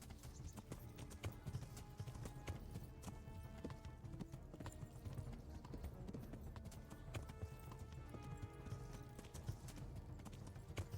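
Rapid rhythmic hoofbeats of a galloping horse in the video game Kingdom Come: Deliverance, steady and close, with a brief whinny and faint game background sounds throughout.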